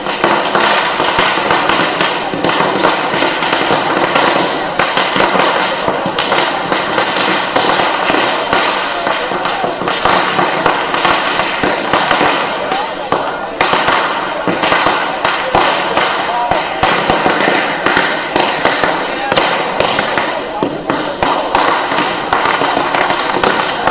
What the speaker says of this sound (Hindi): देखिए पटाखे फूटने लग गए हैं बीजेपी मुख्यालय में